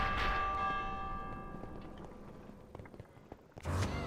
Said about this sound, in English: it's just a ringing bell we gotta do